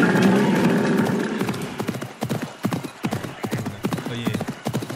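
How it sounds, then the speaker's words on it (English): A horse gallops in the video game Assassin's Creed Mirage, its hooves striking in a quick, steady clip-clop rhythm that comes through clearly after a brief opening noise. "the horse will gallop all into the damn restricted area"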